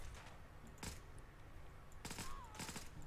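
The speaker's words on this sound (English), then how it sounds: "That was some pretty good blind fire from that gunner." Bursts of blind fire from an enemy gunner in Fallout 4, rapid automatic shots in two short clusters with a quiet gap between, fairly faint and distant.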